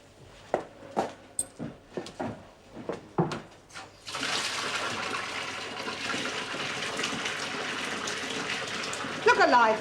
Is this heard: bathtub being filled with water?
yes